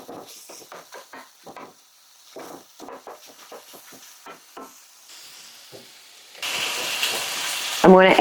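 Homemade sausage fries in a teaspoon of bacon grease in a skillet, a steady soft sizzle under talking that swells into a louder, brighter hiss near the end, with a brief scrape of stirring.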